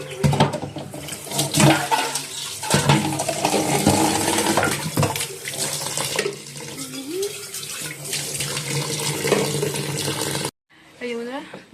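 Tap water runs and splashes steadily in a home kitchen or washroom while something is washed, with voices talking over the flow, before a short break and a brief quieter stretch at the end.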